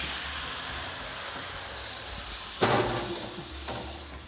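A kitchen oven door shuts with a sharp clank as seasoned teriyaki meat goes in, followed by a fainter knock about a second later, over a steady background hiss.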